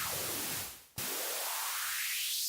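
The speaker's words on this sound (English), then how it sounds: "So this is what the noise sounds like. It's just sort of a white noise" Loud, steady white noise from an X1800 noise generator, its tone swept smoothly down to a dull rumble and then snapping back bright before opening out into a full hiss again.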